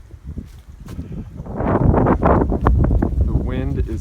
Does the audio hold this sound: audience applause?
no